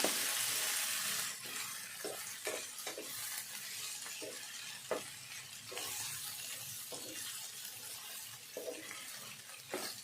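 A spoon stirs a tindora (ivy gourd) curry in a pan, giving a series of soft scraping and clinking strokes over a steady sizzle, close and fairly quiet, with no talking.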